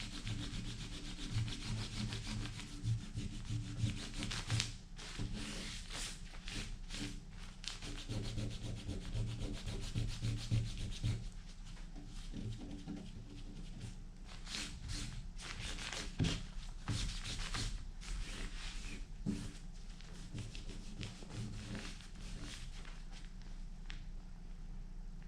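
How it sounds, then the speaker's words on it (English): Sticky duct tape residue being scraped and rubbed off a surface by hand, giving a steady, close run of dense rubbing and scuffing strokes that continues without pause and with no talk over it. "this is literally the joy of removing duct tape"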